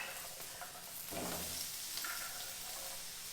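Steady crackling sizzle of zucchini frying in hot oil, with a brief stir partway through; no voices.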